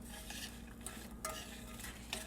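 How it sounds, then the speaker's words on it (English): Chopped pecans stirred into melted sugar, a soft scraping of spoon against bowl with a couple of light clinks, close and quiet, with no voice. "I'll stir it all together to get the pecans nice and coated"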